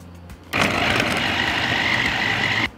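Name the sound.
electric food chopper mincing onion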